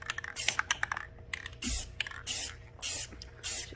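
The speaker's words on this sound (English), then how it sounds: "Going to finish spraying them so I get they're all a nice even coat" Purple spray paint hissing from an aerosol can onto angel Christmas ornaments, a run of short bursts at first and then several longer, even sprays with brief pauses between them.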